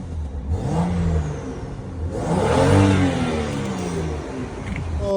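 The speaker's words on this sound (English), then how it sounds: "this sounds like a vacuum leak" A BMW engine with a suspected vacuum leak runs near the microphone, its revs swelling and falling with a whirring mid-pitched drone, loudest around the middle, with no talk over it.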